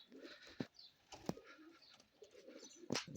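Pigeons landing at a loft, with a few sharp bursts of wing flapping spread over a few seconds against a quiet background of faint bird sounds.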